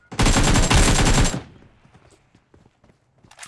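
Rapid burst of automatic gunfire in the BGMI battle royale game, loud and close for about a second, then trailing off into faint background noise.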